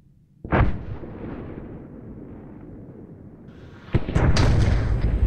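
Grenade blast in a military video game: a sharp explosive crack followed by a long rumbling roar, then a second loud burst with crackling debris near the end, all close and loud with no talk.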